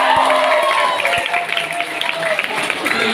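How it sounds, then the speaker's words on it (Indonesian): An audience claps together at an intensive briefing session in an Islamic boarding school, a dense, busy patter of applause with crowd noise and overlapping talk running through it. "tepuk tangan luar biasa"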